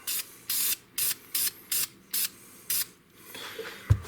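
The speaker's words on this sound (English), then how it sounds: "Get a little Krylon. Okay, just a light coat." Krylon spray paint is applied in a light coat to a 1911 pistol slide, seven short hissing bursts in an even rhythm, close up, followed by a faint clatter.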